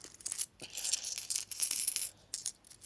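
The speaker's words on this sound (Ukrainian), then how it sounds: "Ось така у нас куча вийшла з цих монет." New 10-hryvnia coins clatter and jingle as they drop onto a pile, a dense run of bright metallic clinks with brief pauses, close and fairly loud with no talk.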